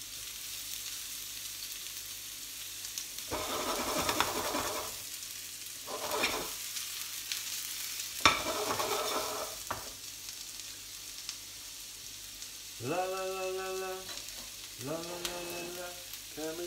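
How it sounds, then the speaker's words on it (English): Onions dropped into hot sunflower oil in a pan, bursts of crackling sizzle in several waves, quiet and close, followed by steadier frying hiss as they are stirred. "Let's drop the onions in."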